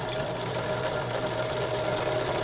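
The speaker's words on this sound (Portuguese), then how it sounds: "Ela tá funcionando, é só um barulho que tá fazendo no motor" A running sewing machine motor gives off an abnormal noise, a steady close drone with a persistent mechanical rattle and no pauses throughout.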